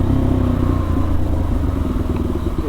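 A 2022 KTM RC 390 motorcycle with its catalytic converter removed rumbles loudly and close while being ridden, its exhaust giving a raw, crackly engine drone.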